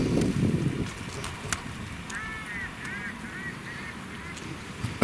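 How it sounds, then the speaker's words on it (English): Mallard ducks and a pintail drake call overhead in a short series of faint nasal honks in the middle, over wind and outdoor noise. "about 6 mallards and a pin-tailed drake circle around, and they flew right over top of us"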